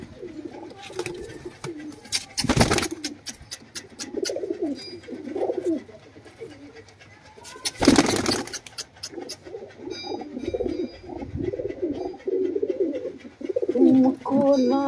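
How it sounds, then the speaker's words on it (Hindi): Pigeons coo in soft repeated phrases at close range, broken by two loud bursts of wing flapping, with faint background voices. "तो सहज सहज मैं सारे कबूतर को बाहर निकाल दूंगा"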